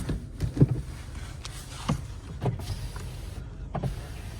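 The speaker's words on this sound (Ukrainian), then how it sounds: "Склопідйомники працюють" Power windows of a Skoda Octavia 1.6 MPI whir up and down in short bursts, each ending with a soft thump, over a low background rumble.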